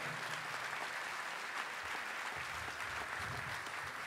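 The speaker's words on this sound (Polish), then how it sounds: "dla tych instytucji, dla tych ludzi poproszę wielkie brawa" Theatre audience applause at an event held in a Gorzów Wielkopolski theatre, a dense, steady wash of many hands clapping that fills the hall evenly throughout, with no voices rising above it.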